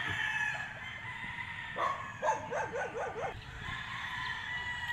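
A White Kelso bull stag gamefowl rooster crows once in a clear, fairly close call with rising and falling pulses, over steady farm background noise.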